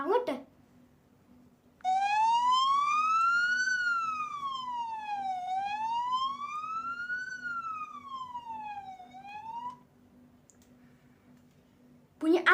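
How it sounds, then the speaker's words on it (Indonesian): A wailing ambulance siren sweeps slowly up and down in pitch, heard clearly but somewhat distant, rising and falling for several seconds before cutting off, with a quiet background and a few clicks at the edges. "Bunyi ambulan."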